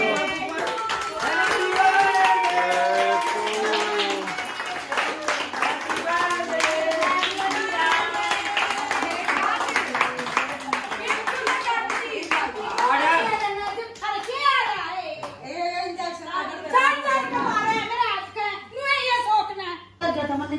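A crowd claps steadily and densely at a birthday celebration for most of the stretch, mixed with lively chatter and children's voices, before the clapping fades and talk takes over.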